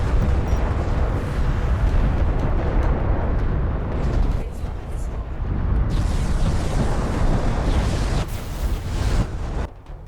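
Artillery barrage explosions from a siege cruiser in the real-time strategy game Homeworld: Deserts of Kharak, heard as loud, continuous rumbling blasts that wash together into a dense roar with a few sharper bursts.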